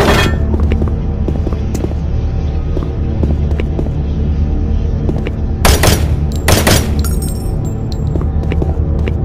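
Automated turret guns fire in the video game Doom 3, two sharp, loud bursts of gunfire cutting through a steady droning game soundscape.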